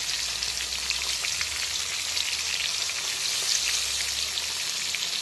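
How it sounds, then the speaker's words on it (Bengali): Prawns fry lightly in a pan with a steady, close sizzle and scattered pops like light rain, continuing without any voices. "চিংড়ির একটা দিক হালকা ভাজা হয়ে গেলে আমি চিংড়িগুলোকে উল্টো করে দেব।"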